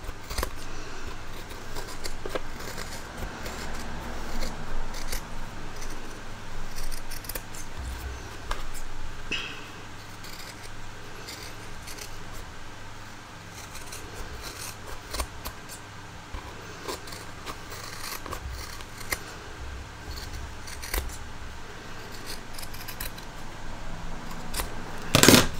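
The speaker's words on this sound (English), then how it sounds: "We're now going to trim off all the excess of the actual card pockets, and we're going to trim it back to the body" Scissors trimming excess fabric from the card pockets of a sewn wallet, giving faint, scattered snipping and crisp cuts at a steady low level over quiet room tone, with no talking.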